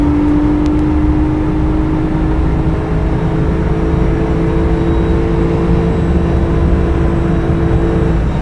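Porsche GT3 on a race track accelerating to pass another car: a loud, steady engine drone with a sustained tone, close and continuous throughout, with no talk.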